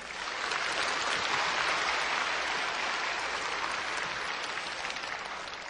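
A church congregation breaks into sustained applause, a broad, even wash of many hands clapping at moderate loudness for several seconds without speech.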